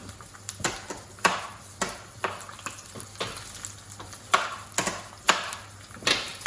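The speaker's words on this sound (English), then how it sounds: "I've got some carrots. I'm just going to top and tail them." Knife chopping the tops and tails off carrots on a board, a series of sharp, close cuts at an uneven pace with short gaps between strokes.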